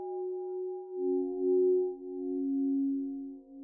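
A phone tone in the video game Hello Charlotte, heard while ordering food: a steady electronic hum of sustained pitches that drops to a lower note partway through, then holds, with no talking.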